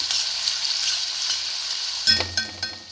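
Onions sizzle in hot oil with ginger-garlic paste for an Andhra-style egg curry, a steady frying hiss followed by a few clanking stirs of a spoon against the pan near the end, no voices.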